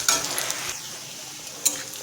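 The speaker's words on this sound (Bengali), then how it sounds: "পেঁয়াজটা ভাজা হয়ে গেছে," Chopped onions sizzle steadily in a frying pan as they brown for a Bengali fish curry, with a few sharp spatula scrapes and clinks from stirring near the start and again just before the end.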